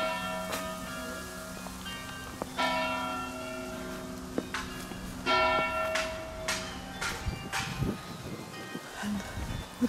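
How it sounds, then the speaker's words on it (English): Church bells ring out at night, several struck tones overlapping and decaying at a moderate distance, fairly quiet against a soft outdoor background with some light rustling. "And the bells."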